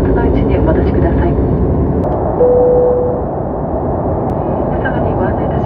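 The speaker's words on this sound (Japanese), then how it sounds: "まもなく離陸いたします。" A steady, loud airliner engine roar fills the cabin during takeoff on a Japan Transocean Air flight from Miyako to Naha, with a thin tone appearing midway and a voice faintly present beneath the drone.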